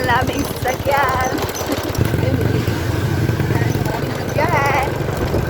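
A motorcycle carries riders along a road, its engine a steady close rumble with wind noise throughout, while people talk over it in places.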